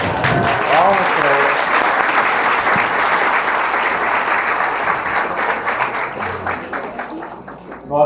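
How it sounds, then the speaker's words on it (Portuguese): An audience at a lecture on spiritism applauds performers with a loud, dense round of clapping that gradually thins and fades toward the end, with a voice briefly audible at the start. "Palmas pra"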